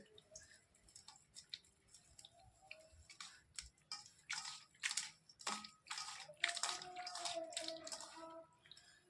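Water splashes and trickles in irregular bursts as cooked bhopatri greens are handled in cold water in a bowl, with soft clinks and drips throughout.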